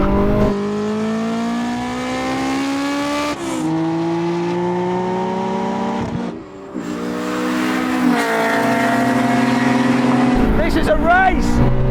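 Cars accelerate hard in a rolling half-mile drag race, engines revving loudly with rising pitch and gear changes, a brief dip, then surging again close by.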